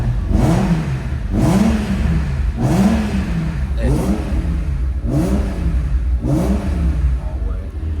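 A BMW M3 engine revs repeatedly in blips, about six rising and falling sweeps over eight seconds, loud and close with a steady idle rumble beneath, with no voices.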